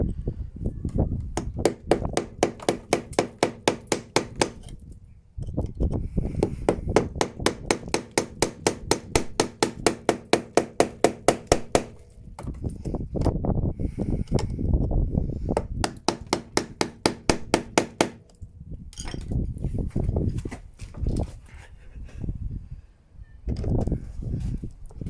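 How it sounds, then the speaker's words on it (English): A hammer strikes a chisel against a stuck screw in rapid bursts of sharp, evenly spaced metallic taps, pausing between runs, with faint murmuring in the gaps. "I'm going to try hitting it with the chisel first to try dislodge it a little bit"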